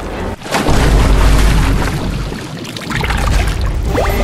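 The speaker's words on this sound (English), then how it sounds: "The pipe is going to explode!" A pipe bursts in a cartoon explosion, a loud, close, sustained rumbling boom with a gushing, water-like roar that holds for several seconds.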